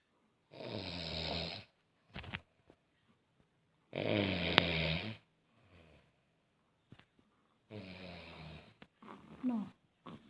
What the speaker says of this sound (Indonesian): Tuh kan, sama ngoroknya.